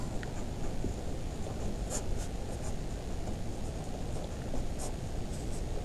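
Pen or pencil scratching steadily across paper as prime numbers are written out by hand, a soft continuous rasp with faint taps, close and quiet, with no talking.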